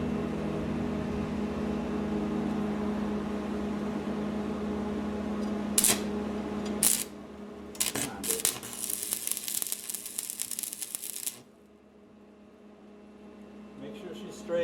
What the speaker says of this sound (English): I'm almost ready to start welding the center block.